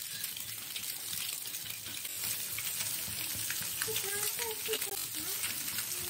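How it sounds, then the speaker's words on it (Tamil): Eggs frying in oil with chili and pepper powder, a faint steady sizzle with soft bubbling and occasional light pops, quiet and continuous throughout. "ஒவ்வொரு எக்காக நம்ம போட்டு நம்ம ஃப்ரை பண்ணி எடுத்துடலாங்க"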